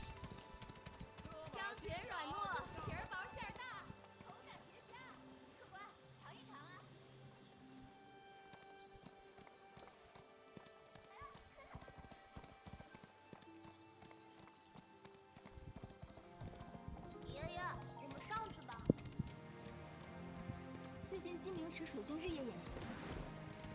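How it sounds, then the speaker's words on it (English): Horse hooves clip-clop steadily in the open-world game Where Winds Meet, with an occasional whinny, layered over a dense, busy game soundtrack and ambience; a voice talks now and then. "Let's just go back, get my horse."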